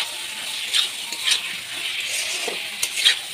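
Potatoes fry and are stirred in a pan while a Bengali dried-fish curry and bitter gourd fry are cooked, giving a steady sizzle broken by several louder scraping stir strokes, close and alone.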